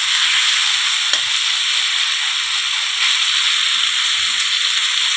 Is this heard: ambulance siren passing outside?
no